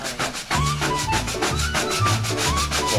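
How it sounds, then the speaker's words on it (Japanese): A brush rubbing smoke-grey wax paint into the fine grooves of cedar boards for a storage shed, a steady close scrubbing sound with rhythmic back-and-forth strokes, loud and continuous. "この細かいところにさ、この塗料をすり込むわ"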